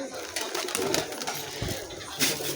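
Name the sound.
pigeons cooing while being fed wheat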